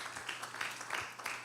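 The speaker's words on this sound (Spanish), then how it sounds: "¿Cuánto le damos una ofrenda de palmas?" A church congregation gives a brief, faint round of applause, a soft, diffuse patter of many hands with no voices over it.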